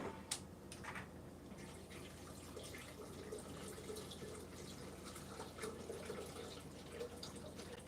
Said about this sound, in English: So I'm adding some coconut water